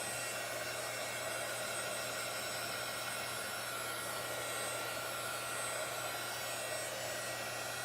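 A hair dryer blows steadily to dry chalk paste on a craft project, a continuous close whooshing roar with a low hum that holds unchanged throughout, with no speech.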